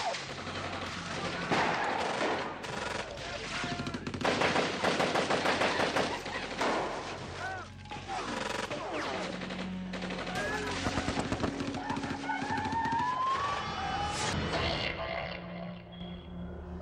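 Loud, sustained gunfire from a Nollywood film scene: dense machine-gun bursts and rapid shots layered with shouting and effects, filling the whole stretch with little pause.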